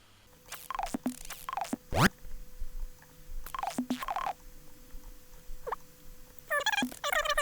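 A reversed audio sample in a wonky hip-hop beat, with backward-swelling chirps and squeaks, a sharp sweeping rise near the middle and scattered stuttering bursts.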